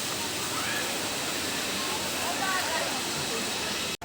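Tanawan Falls in Nueva Ecija roars as a loud, steady waterfall, a dense continuous rush of water filling the scene close by and alone until a sudden cut at the very end.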